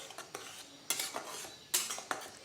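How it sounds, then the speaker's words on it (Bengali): Freshly grated coconut is stirred into a rice mixture in a pan for a rice sweet, with a metal spoon scraping and clinking against the pan in irregular bursts, close and moderately quiet, with no talking. "নারকেল কোড়াটা দেওয়ার পরে আমি খুব ভালোভাবে মিশিয়ে নেব।"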